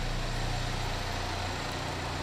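A 2014 GMC Terrain with a 2.4 liter engine idles in a steady, even low hum, smooth and unbroken, with no talking.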